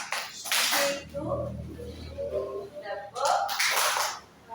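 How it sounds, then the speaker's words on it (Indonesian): Hand clapping in an Indonesian school classroom, a few sharp broadband claps near the start and a cluster again toward the end, mixed with children's voices talking in between. "Tepuk"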